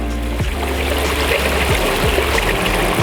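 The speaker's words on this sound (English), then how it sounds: "Water just drips out of it." Water trickling and dripping from a leak in a garden pond stream, a steady close gurgle with small irregular splashes continuing throughout.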